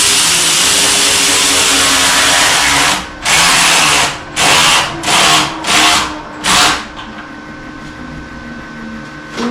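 A power tool works on a car during a turbo install in a shop, starting with a loud continuous whir, then a series of about five short, sharp bursts in quick succession, and a quieter shop hum afterwards.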